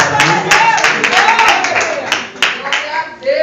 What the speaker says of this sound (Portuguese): uma salva de palmas bem leve para o Senhor Jesus